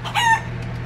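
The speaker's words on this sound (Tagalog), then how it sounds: "May manok." A chicken gives a brief, loud call lasting a fraction of a second over a steady low hum.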